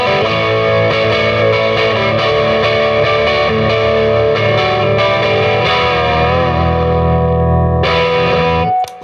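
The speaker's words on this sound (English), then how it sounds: "Now with the bass cut, the universal bass cut switch engaged." An electric guitar, a Jaguar fitted with Jazzmaster pickups and its bass cut switch engaged, plays a loud distorted riff with sustained chords and effects, continuous for about nine seconds before a brief pick scrape and cutoff.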